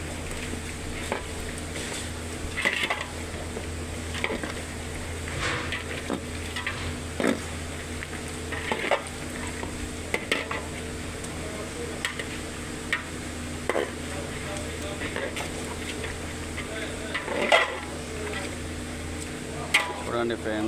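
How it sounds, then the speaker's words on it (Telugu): Chicken biryani being stirred in a pot, repeated scraping and clanking strokes of a ladle over a low steady hum and faint sizzle, with intermittent background voices. "మిక్స్ చేసుకుందాం"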